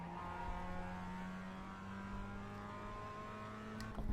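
A Mazda MX-5 Cup race car engine at Laguna Seca in the iRacing simulator holds a steady droning pitch, close and fairly quiet, rising slightly near the end.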